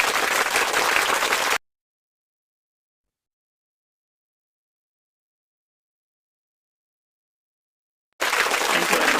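Audience applause for Professor Umar Farooq at a conference on smart technology and the creative economy, heard as two short bursts of dense clapping at the start and end, separated by a long stretch of total silence.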